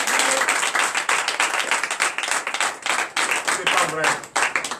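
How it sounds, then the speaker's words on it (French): Clapping from a congregation at a night deliverance and prophecy church service, uneven bursts of hand claps mixed with excited voices talking over them. "C'est notre révérend pasteur Israël Jean-Paul que je vous demande d'applaudir très fort."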